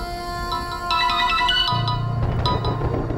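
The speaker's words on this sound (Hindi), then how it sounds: "फिर से फोन आ गया उसका।" A mobile phone rings with an incoming call, a bright electronic melody of repeated tones, with a low background drone joining partway through.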